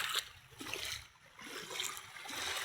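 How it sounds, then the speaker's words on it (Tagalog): Footsteps sloshing through shallow sea water at a beach lined with pine trees, soft splashes and trickling in an uneven walking rhythm, close but fairly quiet, with no talk. "Oh, lakad-lakad ako sa tubig."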